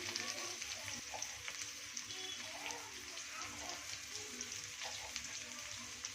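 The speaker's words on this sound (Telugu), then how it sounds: "బాగా మిక్స్ చేసుకోవాలి ఇలా పచ్చివాసన పోయేంత వరకు వేయించుకొని గోల్డ్ కలర్లో రావాలి" Curry leaves, cashews and peanuts fry with onions in a pan, giving a soft, continuous crackling sizzle with faint stirring scrapes.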